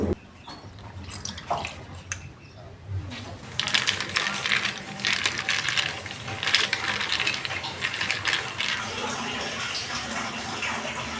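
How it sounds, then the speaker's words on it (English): Ice cubes clink and rattle in a cup packed with about thirty cubes, a busy jumble of close, bright clicks and knocks that grows louder and denser partway through, with no talk. "My cup is, do you see? It's full of ice."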